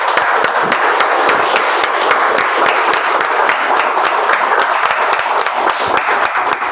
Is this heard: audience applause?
yes